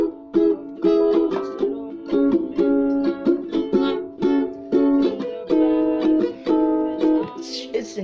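A tenor ukulele is strummed in a lively repeated rhythm of bright, close chords, each stroke clearly separated by short gaps, with no talking over it.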